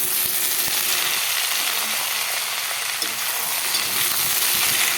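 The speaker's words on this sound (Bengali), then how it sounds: "নুন হলুদ দিয়ে শাকটাকে একটু নাড়াচাড়া করে রেখে দিলাম" Radish greens cooked with salt and turmeric in a pan give a loud, steady frying sizzle close by, with occasional scraping and knocking of the stirring utensil.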